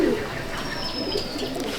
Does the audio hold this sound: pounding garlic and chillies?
no